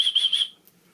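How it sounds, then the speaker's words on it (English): A small survival-kit whistle gives three short, shrill blasts in quick succession that stop abruptly, leaving near silence. "Oh, it's the whistle."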